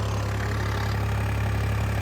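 A New Holland tractor engine drones at low revs, around 1300–1400 rpm, hauling a trolley of sugarcane, a steady, heavy, unbroken rumble close up with no voices.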